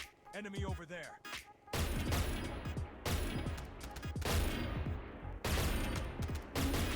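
Gunfire in the cyberpunk survival mobile game PR52 Bladeline comes as loud, dense bursts of rapid shots in several volleys, with brief pauses between them and a short stretch of game sound before the firing starts.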